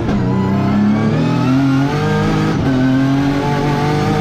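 A Ferrari LaFerrari engine revs hard and accelerates on a mountain course at Pikes Peak, a loud, continuous, close roar whose pitch climbs and dips with the throttle, with no talk over it.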